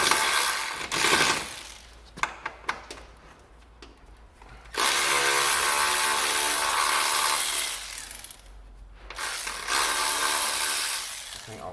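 A ratchet undoes a bolt on a car, with a run of close, quick clicks followed by long, loud stretches of harsh, steady mechanical whirring.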